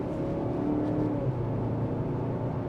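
A 2025 Lincoln Corsair in conserve mode pulls away at about half throttle, giving a smooth, moderate engine and road hum that rises slightly with a faint whir, with no talking over it.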